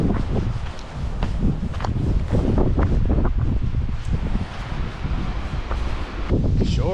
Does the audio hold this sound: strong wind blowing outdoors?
yes